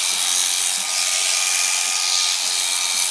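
Electric clippers shear the wool on a Shetland ewe's cheek and head with a steady, close, high-pitched buzz that holds for the whole stretch, with no voices over it.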